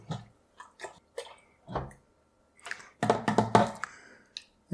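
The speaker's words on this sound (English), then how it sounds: "let's go ahead and give that a good stir, mashing down on some of the bags" Canned peach wine must being stirred while fruit-filled mesh bags are pressed down, giving soft wet squelches and sloshes in short separate bursts, then a denser run of squishing near the end.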